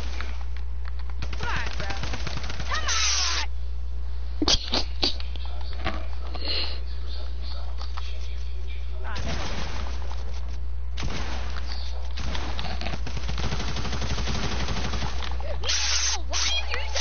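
Rapid machine gun fire in a shooting video game, bursts of repeated shots coming in several long volleys over a steady low hum.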